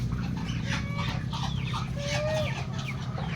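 Farm chickens cluck repeatedly in a small group, with short, rising calls over a steady low background hum, fairly close and continuous.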